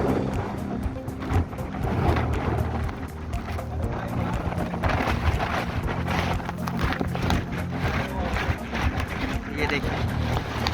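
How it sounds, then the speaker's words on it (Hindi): Strong wind roars across Takmak point, the cliff edge of Raigad fort, as a loud, steady broadband rush with gusty buffeting throughout, while a person talks over it. "ये देखिए बहुत जोर जोर से हवा चल रही है।"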